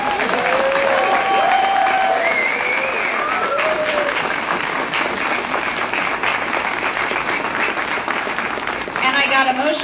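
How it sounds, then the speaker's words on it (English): Sustained audience applause for the staff at a groundbreaking event at the Pittsburgh Glass Center, loud and steady throughout, with scattered voices and a few calls rising above the clapping. "So I would really like a big round of applause for all of those folks."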